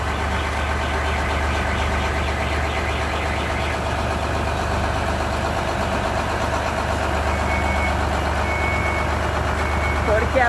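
A truck reverses to swing its rear toward a narrow gate before loading, its backup alarm beeping steadily over the mid-pitched hum of the idling engine, close and continuous throughout.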